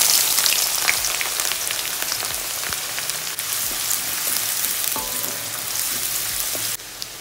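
Finely chopped large onions frying in a pan with mustard seeds and curry leaves, a steady close sizzle with occasional stirring scrapes and pops throughout, no voices.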